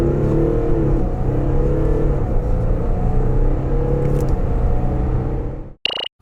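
A Volkswagen Touareg 3.0 TDI R-Line diesel SUV engine roars loudly and steadily as it accelerates hard from a standstill, the deep rumble sustained for several seconds before cutting off abruptly.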